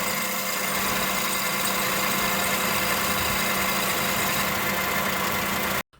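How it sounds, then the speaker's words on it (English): A 2005 Acura TSX engine idles steadily with a constant hum and faint whirring from a noisy, 4-year-old drive belt as water is sprayed onto it, then cuts off abruptly at the end. "I'm going to run the engine and spray water directly onto the belt ribs"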